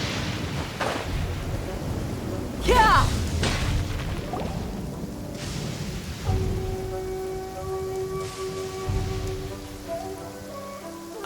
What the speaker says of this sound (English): According to some of the older Eremites, it does actually rain in the desert on occasion